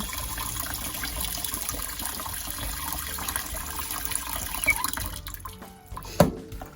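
Small fresh Japanese garlic bulbs rinsed under a running tap, with a steady wash of water splashing into a sink and a few brief drips and clinks near the end.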